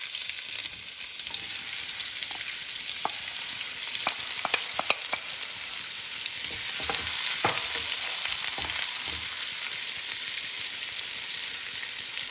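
Onions sizzle steadily in vegetable oil in a pot, a continuous close hiss with scattered pops and crackles and occasional soft clinks, no voices.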